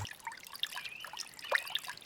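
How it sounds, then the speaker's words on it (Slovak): Solar-powered garden fountain beside a caravan under an oak tree, water trickling and splashing softly and steadily on a hot day, fairly quiet and close, with no voices. "Voda krásne žblnká počas horúceho dňa pri karavane pod dubom."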